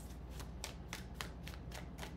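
Tarot cards being shuffled in quick, crisp riffling bursts, about eight rapid flicks in a row, close and fairly quiet over a low steady hum.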